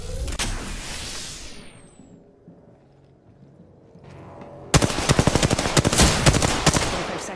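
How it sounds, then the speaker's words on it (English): Gunfire in the Apex Legends video game: a burst of shots opens, then a quieter stretch with low rumble, then loud, dense rapid automatic fire with overlapping shot transients through the second half. "I'm getting shot at"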